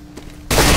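A sudden loud burst of gunfire from the video game CS GO erupts in a competitive match after a brief quiet moment, filling the rest of the short clip.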